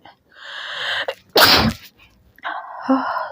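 A single loud, sharp sneeze bursts out between stretches of quieter background sound.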